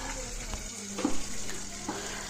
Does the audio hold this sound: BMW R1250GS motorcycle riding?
no